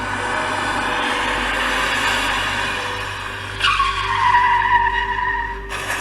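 A high-end car driven at full speed skids with a long, sustained tire squeal that rises into a sharp, falling screech near the end, loud and steady over a broad roar; no distinct impact follows.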